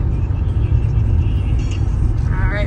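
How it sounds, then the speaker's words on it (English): A car drives along a road in Oahu, Hawaii, giving a steady low rumble of engine and tyre noise from inside the cabin, close and continuous throughout. "We shall enjoy the ride in the car"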